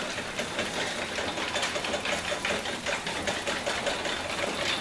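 A garage door being opened automatically, a steady mechanical motor hum and rattling drone, fairly quiet and continuous, with no talk.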